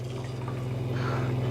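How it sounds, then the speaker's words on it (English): Water runs from the faucet of a camper trailer as a steady rushing flow with a constant low hum beneath it, close and moderately loud, with no voices. "once I've got my water tank full of chlorinated water, I'll run my faucet up here"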